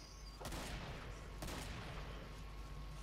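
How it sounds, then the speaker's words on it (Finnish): Gunfire in the zombie shooter Killing Floor, two sharp shots about a second apart followed by a lingering echoing tail, fairly faint against a steady background hum. "Täällä ammuskellaan."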